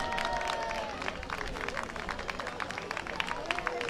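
An audience applauds a young winner at a nature race award ceremony, a fairly faint, steady crackle of many hands clapping that carries on beneath someone speaking over a loudspeaker.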